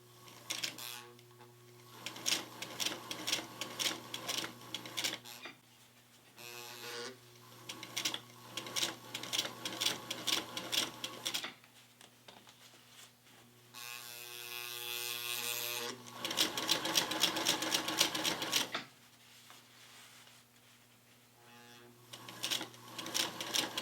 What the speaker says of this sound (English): Now I'm going to sew up to just 1 or 2 stitches past where I was before.